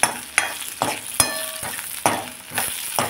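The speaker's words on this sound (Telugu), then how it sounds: "ఆవాలు ముందు వేయించామండి, తర్వాత పచ్చిమిరపకాయలు వేసాను, తర్వాత ఏమో ఇది వేస్తున్నాను, వెల్లుల్లిపాయలు వేసాను" Mustard seeds, green chillies and garlic fry in hot oil, close and fairly loud, with a crackling sizzle broken by several sharp pops and spits as the seeds burst, and no talking.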